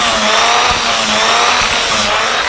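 A handheld Dremel rotary tool whines steadily and loud as it files the edges of a leather shoemaking craft project, a continuous high-pitched grinding buzz with faint low thumps and no talking.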